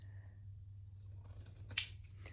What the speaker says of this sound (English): I'll probably trim some of them up since we've got so many.